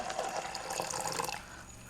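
Water poured steadily into a container as the base for a homemade citric-acid kitchen cleaner, a close, continuous splashing gush lasting a couple of seconds with no voices.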